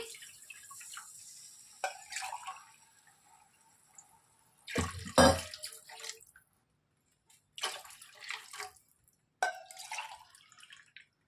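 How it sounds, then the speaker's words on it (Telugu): Water pours and splashes into a pot of rice in several separate bursts, with quiet pauses in between, close by. "ఇప్పుడు నేను టూ గ్లాసెస్ రైస్కి ఫోర్ గ్లాసెస్ వరకు వాటర్ని వేసుకుంటున్నానండి"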